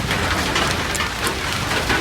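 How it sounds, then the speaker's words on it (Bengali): Steady, hissing rain falling continuously at Bukit Batok Nature Park, Singapore, with a dense wash of patter and no voices. "বৃষ্টির কথা বলতে বলতে বৃষ্টি এসে পড়েছে"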